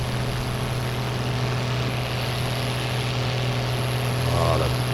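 Steady, droning tractor engine hum from Farming Simulator 19, a constant low-pitched tone that runs throughout at an even, loud level.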